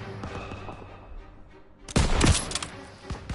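Machine gun fire in the World War II shooter Call of Duty WWII opens after a quieter stretch of background battle noise, a loud burst of rapid rattling shots with a few scattered cracks trailing off.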